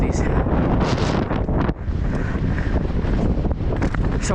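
Strong wind buffets the microphone in a loud, steady roar with gusty surges, blowing outdoors on a windy day and drowning out nearly everything else.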